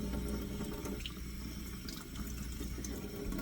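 Water runs steadily from a tap in a continuous close splashing stream, with no talking.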